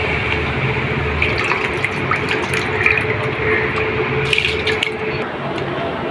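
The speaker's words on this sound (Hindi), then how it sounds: "इसमें हम ये भीगे हुए चावल हैं ये शामिल कर देंगे।" Soaked rice tipped into a pot of water for aloo tahari, a continuous wet pouring and splashing rush with small squishy bursts, close and steady throughout.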